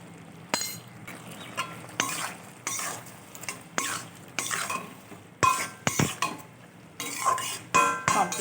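Spoon scraping and clinking against a pan as okra curry (bhindi jhal) with potato, kasundi and mustard oil is stirred, repeated metallic strokes and clatters close by, with a faint sizzle underneath.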